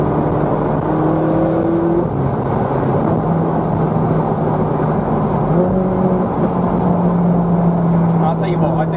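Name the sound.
Ferrari 458 Spider engine driving onboard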